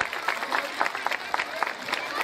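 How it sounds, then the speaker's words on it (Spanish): Crowd applause for the organizers at a Day of Teachers and Kindergartens celebration: steady rippling clapping with an irregular beat and bursts of emphasis, fairly loud and close throughout. "Y pido un gran aplauso para todos los organizadores de esto"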